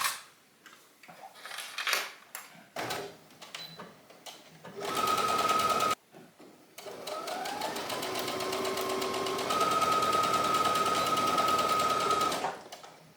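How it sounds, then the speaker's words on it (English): A domestic sewing machine stitches around the outer edge of a collar, first with a few short ticking starts, then two sustained runs of steady whirring, close up and alone. "now we just need to sew the outer edge of the collar all the way around"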